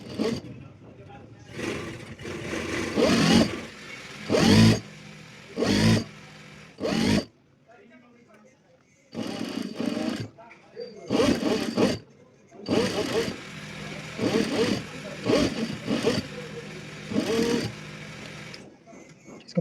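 Domestic sewing machine stitching the hem of an abaya in short bursts of whirring, stopping and starting several times, close and fairly loud, with someone talking in the pauses between runs.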